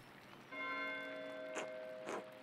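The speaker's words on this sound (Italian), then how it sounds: "Perché Mattie suona la campana?" A church bell in the Pentiment video game rings with a clear, sustained metallic tone that lingers and hums, a couple of brighter strikes ringing out over the quiet background.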